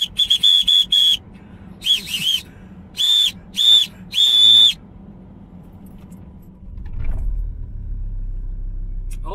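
A handmade, hard-blowing whistle gives a series of loud, shrill blasts, some short and some held, before falling silent, leaving a low rumble like a passing vehicle.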